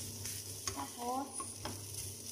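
Rice stir-fried in a wok, a constant close sizzle with a few quick scraping stirs of a spatula; a brief voice-like tone rises in the middle.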